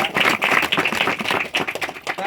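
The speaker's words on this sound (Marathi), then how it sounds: "आणि टाळ्या वाजवून त्यांचं एकदा पहिल्यांदा" An audience in a hall claps in a lively, close burst of applause, sharp hand claps running continuously with slight dips in loudness.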